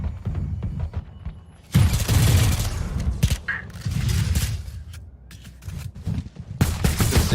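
Bursts of pistol fire from a Valorant tournament match, loud dense volleys of shots and impacts starting after a quieter opening, with several separate flurries through the stretch.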